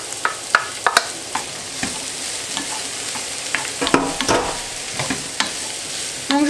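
Yellow, red and green bell peppers sauté in a pan while being stirred: a continuous close sizzle with frequent sharp spatula taps and scrapes throughout.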